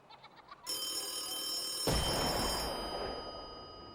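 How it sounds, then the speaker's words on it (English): A telephone rings in the Saints Row video game, with short quiet tones at first and then a sustained electronic ring that swells into a louder, noisier burst and holds steady to the end. "Can someone, for God's sakes, answer the phone?"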